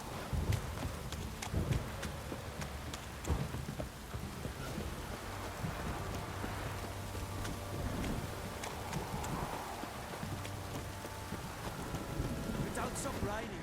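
Steady rain patters and drips in The Witcher 3, a dense, constant hiss of drops on surfaces, with deep rolls of thunder rumbling underneath and occasional sharper knocks throughout.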